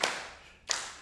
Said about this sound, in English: You can try clapping along if you like.